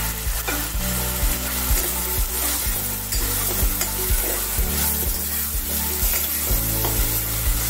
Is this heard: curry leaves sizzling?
yes